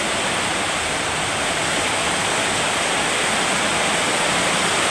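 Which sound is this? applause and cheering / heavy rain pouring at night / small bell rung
heavy rain pouring at night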